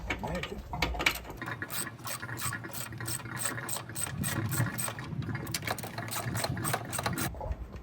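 Rapid, steady clicking of a ratchet backing screws out of a pool heater, a continuous mechanical ticking close by with a low hum underneath, lasting several seconds without pause.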